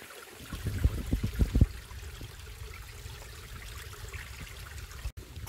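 Steady trickling water from a small stream on a farm, with a few louder splashes at the start, then a continuous gentle flow.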